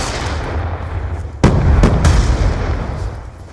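A concussion grenade bursting in a multiplayer shooter game, a loud sudden boom followed by a couple of quick blasts over a dense, rumbling battle din.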